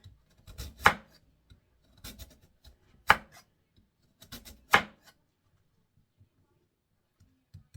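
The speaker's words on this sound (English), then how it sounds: "But for your pies, cut them thin, slice them thin." A knife slices sweet potatoes thin for pie, giving a few sharp, close chopping strokes against a board in uneven bursts, separated by quiet gaps.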